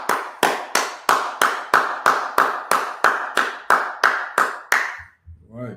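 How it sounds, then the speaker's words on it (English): Rhythmic, evenly spaced clapping, about thirteen loud claps close up in a steady beat, stopping abruptly before a brief voice. "Go ahead, clap it up."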